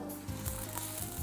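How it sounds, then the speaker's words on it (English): Onion and garlic sautéing in olive oil give a close, steady sizzle with small crackling bursts and faint stirring scrapes, no talk. "And we want to get these a little bit soft, saute them."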